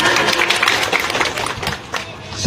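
Clapping from a crowd at a village hall ceremony in Purwasaba, Banjarnegara, greeting the naming of a hamlet head. The applause is dense and steady, with a few louder claps at the end.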